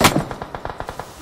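Rapid burst of gunfire in PUBG Mobile, one loud opening shot followed by a quick rhythmic string of about eight evenly spaced shots, close and sharp.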